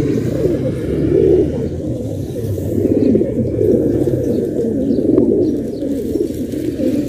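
A large flock of pigeons, including brown and white birds, kept as a hobby out in a field, fills the air with close, continuous overlapping cooing, a low murmuring burble that swells and eases without pause.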